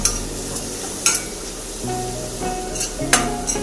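Red chilli powder and turmeric stirred into hot oil in a frying pan, a steady soft sizzle with scraping strokes of a spatula and a few sharper clinks against the pan, no voices.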